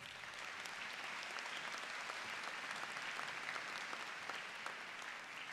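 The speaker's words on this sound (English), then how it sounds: "please give Wendy a big round of applause" Law school commencement crowd applauding, an even, sustained patter of many hands clapping heard at a distance in a large hall.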